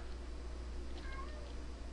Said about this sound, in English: Oh, my cat is in here being crazy. He wants to go outside, even though it is dark.